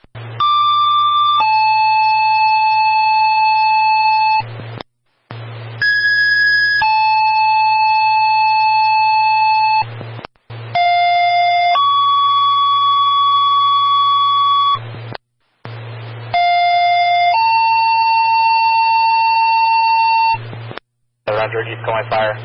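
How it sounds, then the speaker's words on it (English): Fire dispatch alert tones for a structure fire, loud sustained paging tones shifting pitch in successive blocks with brief gaps, over a constant low radio hum and a short burst of static near the end. "The first alarm tone for 188 Green Hill Road."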